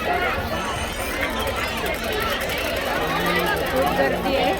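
Dense crowd chatter fills a busy festival ground in Panvel, a steady wash of many overlapping voices close by with no pauses, continuous and loud throughout.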